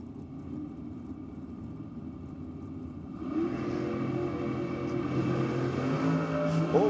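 A Chevy S10 pickup with a 441 cubic inch small block V8 makes a drag racing pass at Sydney Dragway. A distant engine drone swells suddenly into a louder, rising roar as the truck launches and runs down the track.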